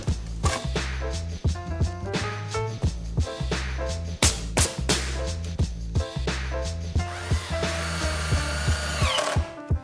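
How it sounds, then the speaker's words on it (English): A power drill boring a large hole into a wooden support post for a workshop beam, the motor whining steadily and loudly up close with repeated short bursts and bites as the bit chews through the wood, no talking. "it feels very wrong to drill a big hole into the post"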